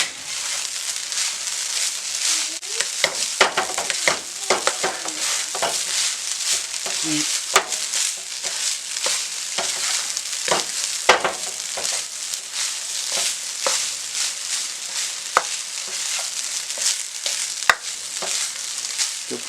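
Chicken fried rice with spring onions being stirred in a hot pan, a steady loud sizzle broken by repeated scraping strokes of the spatula, with no talk.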